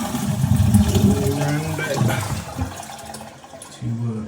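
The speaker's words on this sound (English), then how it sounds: "let's see if it flushes and if we've got any leaks down there" Toilet flushing in a bathroom being tested after plumbing work, a rushing water surge that fades toward the end, with a voice talking over it.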